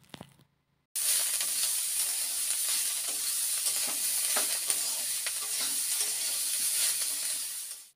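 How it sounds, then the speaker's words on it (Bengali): Vegetables sizzle and fry steadily in a pan with salt and turmeric, with stirring scrapes, after a brief quiet start. Loud, continuous hiss runs close by until the end. "এখন এর মধ্যে সামান্য পরিমাণ লবণ আর একটু হলুদ দিয়ে নাড়াচাড়া করব, ঢেকে দিয়ে রান্না করব।"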